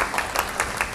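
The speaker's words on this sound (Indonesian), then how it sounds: "Tepuk tangan ya." A short burst of applause, many hands clapping together in a steady patter, fairly close and even throughout.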